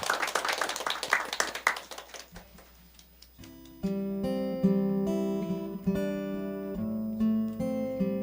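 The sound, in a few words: congregation applauding in church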